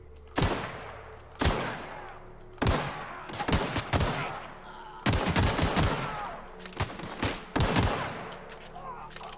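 Gunfire from The Outer Worlds video game: repeated loud bursts of shots, some single and some rapid volleys, spaced across the stretch with brief gaps.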